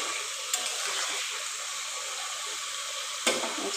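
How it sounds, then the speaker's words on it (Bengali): Chicken pieces lightly frying in hot oil for a curry, a soft continuous hiss and crackle with a couple of sharper pops, moderately close and steady. "দেখো হালকা চিকেনগুলো ভেজে তুলে নেব।"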